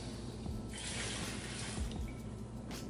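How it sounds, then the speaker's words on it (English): Fuel poured from a DIY injector flow bench for decapped LS/LSX injectors back into a can, a steady liquid splash and trickle that runs for about three seconds. The pouring is close and is heard alone without talk. "and then pour it back into my can."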